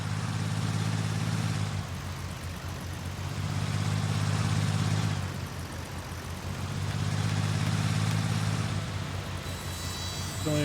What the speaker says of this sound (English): When we rev the engine,